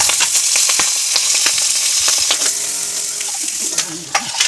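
Onions frying in hot oil in a kadai for a Bengali fish dish, with a loud, close, steady sizzle and a few stirring scrapes and clinks toward the end.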